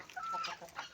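Hens cluck softly in a farmyard flock that includes a rooster, a brief run of close, quiet, choppy calls.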